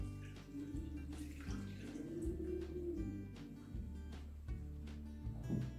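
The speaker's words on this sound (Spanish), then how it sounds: "Vamos a poner 600 centímetros cúbicos o mililitros de agua." Water poured into flour for pizza dough at home, a quiet, continuous trickling stream running several seconds with faint background hum.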